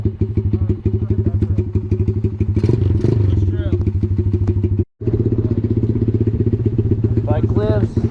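A Honda XR70 dirt bike engine runs close by with a rapid, steady putter and a rattle. It cuts out briefly before catching again, and a voice talks over it.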